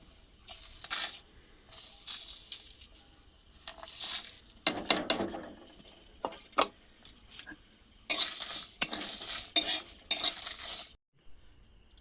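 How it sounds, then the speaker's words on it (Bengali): Whole spices (dried red chillies, coriander, fennel, cumin, green and black cardamom, cinnamon, cloves) dry-roast in a pan, with bursts of scraping and rattling stirring between quiet gaps. "শুকনো লঙ্কা ধনে মৌরি গোটা জিরে ছোট এলাচ বড় এলাচ দারচিনি লবঙ্গ নিয়ে নিয়েছি এগুলো সব একসঙ্গে ভেজে নিব"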